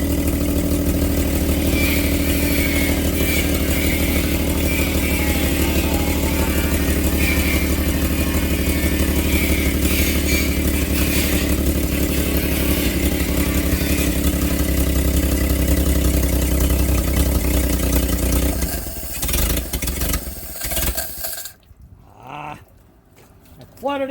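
A motorcycle engine revving and running loudly with clattering mechanical noise for about twenty seconds, then faltering and cutting out to near silence before a brief restart, with someone speaking occasionally.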